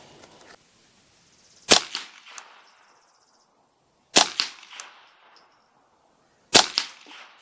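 Three sharp .22 LR rifle shots from a custom Ruger 10/22 firing light 24-grain Norma Ecospeed ammunition, each a loud crack with a short outdoor echo, evenly spaced a couple of seconds apart with no talking.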